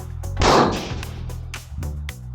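A single loud rifle shot is fired at a target 1,100 yards away, a sharp crack with a rolling echo tail that fades over the following second or so.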